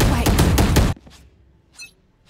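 Loud, rapid burst of gunfire in the Valorant shooter game, several quick shots in a tight cluster, then cutting off abruptly to near silence with faint distant game sounds.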